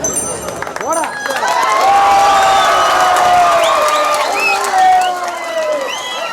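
Villagers cheer and shout in welcome for a newly chosen young temple priest, a loud sustained crowd roar with raised voices and whistle-like calls rising and falling throughout.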